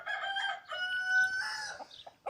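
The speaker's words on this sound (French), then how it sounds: "Qui est un coq soit couleur coucou" A cuckoo-coloured rooster crows once, loud and close, in a long drawn-out call that trails into a few short clucks at the end, with no voices.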